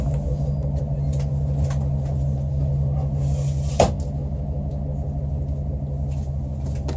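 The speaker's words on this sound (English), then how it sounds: "That truck was very, very loud." A steady low rumble of a truck rolling past outside an open window, muffled and continuous, with a brief sharp knock partway through.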